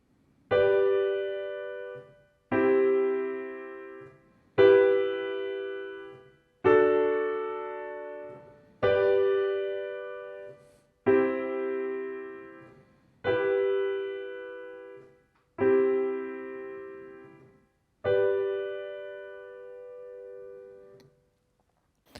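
Piano chords from the chorus of a song, struck one at a time, nine in all, each ringing out and decaying for about two seconds before the next, played slowly and clearly.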